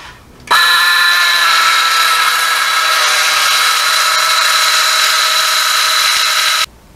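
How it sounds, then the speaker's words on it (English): A circular saw cutting a pipe on a marked line spins up abruptly and runs as a loud, steady high whine for about six seconds, then stops suddenly. "I'm just going to use a circular saw and spin it around"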